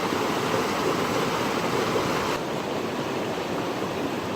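A river rushes steadily beneath a bridge at a trail river crossing on Cascade Mountain, giving a continuous, close, full-bodied watery roar with no voices.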